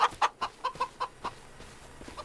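Chickens in Farming Simulator 25 cluck in a quick series of short, bright calls, about eight clucks over two seconds, moderately close, with no talking.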